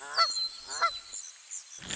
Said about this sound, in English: Prepare for the next animal, a goose.